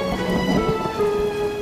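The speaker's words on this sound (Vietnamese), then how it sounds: "Mưa rồi." Rain falls steadily in a dense, even hiss with low rumbling beneath, close and continuous with no voices.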